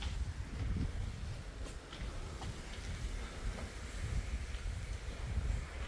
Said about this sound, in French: Aujourd'hui il y a du vent.